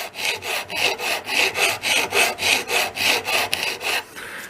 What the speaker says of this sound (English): we'll show you what it files like